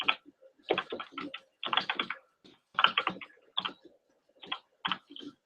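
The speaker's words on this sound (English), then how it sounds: "I'm typing in the support link" Someone types on a computer keyboard in quick bursts of clicking keystrokes, with short pauses between clusters. The keys are close and fairly crisp, and no voices are heard.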